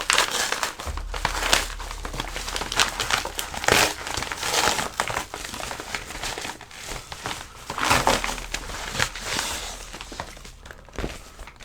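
Paper crinkling and crumpling as a plain white mailing envelope is handled and torn open, with irregular rustles and crisp bursts close by, no speech over it.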